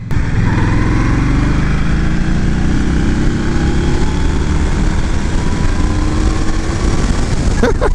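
A 2022 Indian Scout Rogue motorcycle engine while riding, a steady loud drone with shifting tonal pitch sweeps over rushing wind, continuous throughout without pauses.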